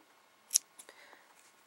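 A single sharp snip of scissors trimming the yarn ends on a crocheted amigurumi bunny or bear, close and quiet, followed by a few faint clicks.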